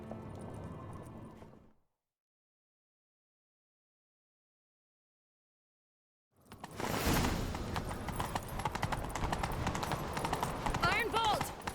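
Galloping horse hooves in The Witcher 3 on PS5: a short burst, a stretch of silence, then a dense, loud run of rapid clip-clopping mixed with busy game sounds.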